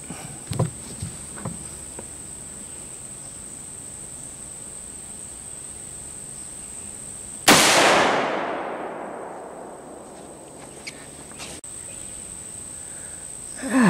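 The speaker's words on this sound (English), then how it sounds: "Let's load up and take a few shots." A single sharp gunshot from a Marlin 336 lever-action rifle at an outdoor range rings out loud and close, its echo decaying over several seconds against a steady insect drone.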